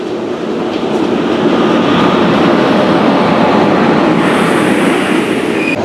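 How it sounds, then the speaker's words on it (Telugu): A train bound for Thiruvananthapuram arrives at the second platform of Murudeshwar station in the rain, a loud, steady, close roar of wheels and carriages with a faint high squeal near the end. "సెకండ్ ప్లాట్ఫామ్లో వేరే ట్రైన్ వస్తుంది"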